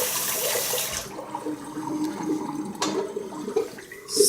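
Cold mountain tap water runs steadily to rinse a shaving razor, a close, loud gush and splash into a basin with a faint clatter near the end, no talking.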